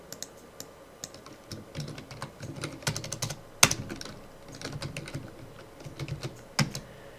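Fingers typing a folder name on a computer keyboard, a quick irregular patter of clicking keys with a few harder taps, close and moderately quiet.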